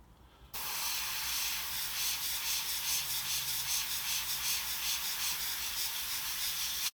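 An airbrush sprays paint in a steady, close, airy hiss that starts abruptly after a short pause and holds evenly, softly pulsing, until it cuts off at the end.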